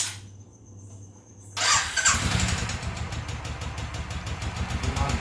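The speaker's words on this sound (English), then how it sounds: "The main reason to buy this bike is the sound of the engine." A Royal Enfield motorcycle fires up with an abrupt start after a brief quiet idle hum, then settles into a loud, steady thumping engine note with a fast regular pulse, close by.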